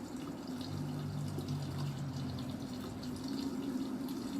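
An automatic washing machine on its first wash fills from its own hot and cold water supply, a steady low rush of running water with a faint hum, moderately quiet and continuous.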